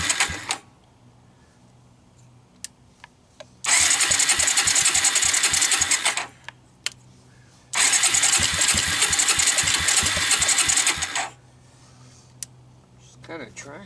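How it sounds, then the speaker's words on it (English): A cold start of a Suzuki LT160 ATV engine: two long bursts of loud cranking and sputtering, each lasting a few seconds, with quiet gaps before, between and after, recorded up close. "Once again, this is a cold start."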